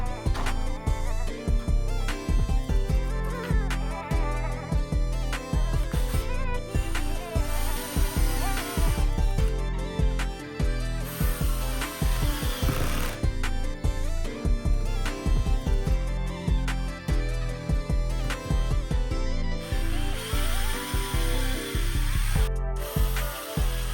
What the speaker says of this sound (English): I'm going to drill pilot holes, and then I'm going to drill like 1 or 2 screws to secure them in